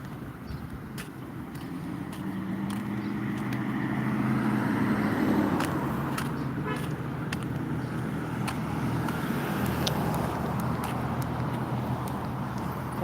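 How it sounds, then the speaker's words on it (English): Cars pass on a nearby street while someone walks toward a bus stop, a continuous rushing road noise that swells as vehicles go by, with faint ticks and clicks above it. "I'm getting closer to the cars."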